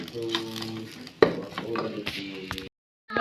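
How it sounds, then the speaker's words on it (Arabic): Kunafa strands being stirred and toasted in a pan: close scraping and clinking strokes over a low sizzle, with one sharp knock midway, ending in a sudden brief silence. "نقلب فيها لحد ما تاخد اللون اللي انا عاوزاه"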